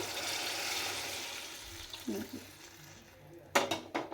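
Water is poured into cooked vegetables in a pot, a soft steady rush for about two seconds, then quieter gurgles and a few sharp knocks of a vessel near the end.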